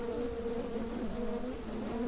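Close, continuous buzzing of stingless bees, a steady droning hum with slight wavering pitch and no voices.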